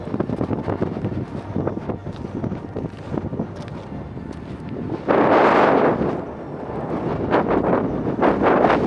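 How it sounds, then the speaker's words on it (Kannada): Strong wind at Z Point in Chikmagalur buffets the microphone in uneven gusts, with a loud roaring burst about midway and lighter buffeting before and after, no speech. "ಗಾಳಿ ಫೋರ್ಸು ತುಂಬ ಇದೆ"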